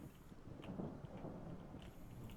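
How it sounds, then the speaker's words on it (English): A thunderstorm rolls through in the survival game Project Zomboid, a faint low rumble of thunder beneath a soft, constant wash of rain, with no voices. "it's a right storm that's brewing out there"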